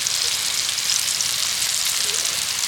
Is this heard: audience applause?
no